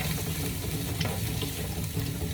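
Garlic sautéing in a pan, a dense continuous sizzle and crackle heard up close, steady throughout with no talking.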